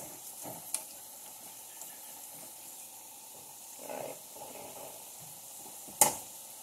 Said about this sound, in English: I want you to actually start searing.